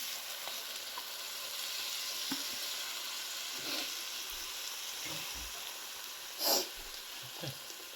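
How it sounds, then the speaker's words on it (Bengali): Tomato paste goes into hot oil with spices for a fish curry, giving a steady close sizzle throughout with a few soft stirring scrapes and one brief louder hiss. "এবার এর মধ্যে টমেটো দিয়ে দেবো"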